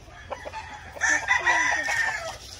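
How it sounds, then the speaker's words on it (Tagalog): A nearby chicken cackles and crows in a drawn-out call, with a few soft clucks leading in, fairly loud against a quiet outdoor background. "Nanunuka yung manok."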